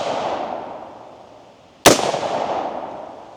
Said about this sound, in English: we're gonna put a couple rounds through it